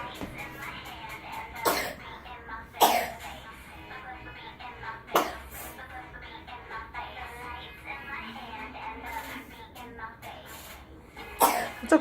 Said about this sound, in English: It's okay, you can cough